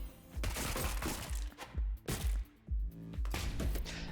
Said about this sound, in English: That is definitely a bigger and better explosion.